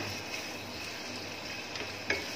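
Chicken sautéing in olive oil in a pan gives a steady, soft sizzle that runs throughout, with a few faint stirring clicks and a small clink near the end, with no talk.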